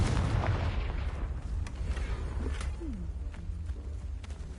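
A Confringo fire spell from Hogwarts Legacy bursts in a dull booming explosion that fades into a rumbling tail with scattered game effects, no talk over it.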